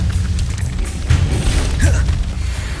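A fire spell cast in Hogwarts Legacy, heard as loud, deep rumbling booms with a whooshing flare, one swelling around the middle and another near the end, over continuous low game noise.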